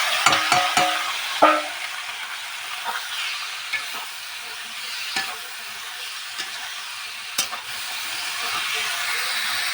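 Gourd stalks tossed into a pan of salt-and-turmeric fried fish heads give a steady sizzle and frying hiss, with sharp stirring clatters near the start and a few later knocks, loud and close with no talking.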